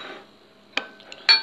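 A spoon clinks against a bowl a few times while stirring a nuoc mam marinade, with sharp close taps separated by brief quiet gaps.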